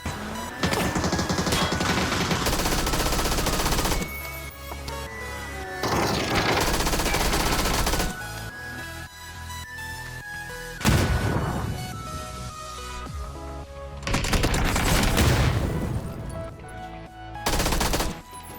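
Gunfire in the video game PUBG: loud, rapid automatic bursts and single shots cracking in repeated volleys, with brief pauses between strings of fire and no speech over them.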